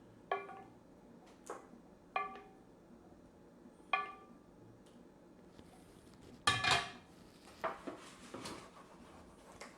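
A spoon clinks against a baking dish and scrapes across it while sauce is spread over the bottom for a meatless baked ziti. Three faint, ringing taps come first, followed by a brief burst of scraping, all quiet and close.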